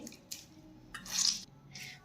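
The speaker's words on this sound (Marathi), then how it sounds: "यामधला आपण सगळं पाणी असं पिळून पिळून काढून घेऊयात" Grated vegetable being squeezed by hand to press out its water for fasting thalipeeth, a few wet squishing bursts and drips at irregular intervals, close and fairly soft.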